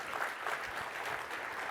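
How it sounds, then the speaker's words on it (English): An audience at a video advertising summit applauds steadily, a dense even wash of many hands clapping at moderate distance with no talk over it. "Please give him a round of applause for joining us."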